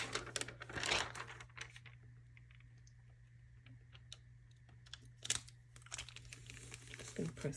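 Recycled transfer tape crinkles in bursts as it is handled for a rhinestone template, with soft rustles and taps between louder crackles near the start, middle and end.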